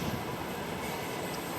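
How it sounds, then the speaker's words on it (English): Passenger train rolling past near a railway tunnel in bushland, a dense steady rumble of wheels and carriages at close range with no clear pauses, no one speaking. "Passenger train?"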